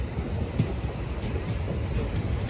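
Amrit Bharat special train for Sabarimala pilgrims running on the rails between Renigunta and Katpadi, a steady close rumble with low wheel noise and faint rhythmic clatter, no talk.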